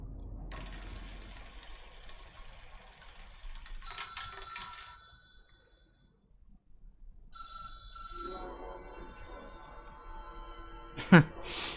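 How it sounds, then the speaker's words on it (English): Telephone ringing in the video game Control, two bursts of bright bell-like trills separated by quiet, then a brief sharp click near the end, faint and set in a hushed room ambience. "You're unlucky because you got to the phone just as they stopped calling."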